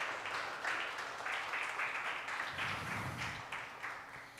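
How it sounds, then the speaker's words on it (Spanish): A church congregation applauds, a dense patter of many hands clapping together at moderate distance that swells and continues for several seconds. "Dale un aplauso si lo puedes creer al Señor"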